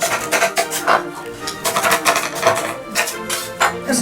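A knife chops green onion (daepa) on a cutting board for braised mackerel, quick, close, irregular tapping strokes at a steady pace in a home kitchen.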